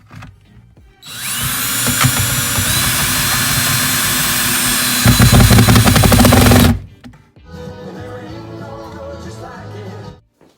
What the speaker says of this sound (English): We've got to drill a tiny hole up in the top back left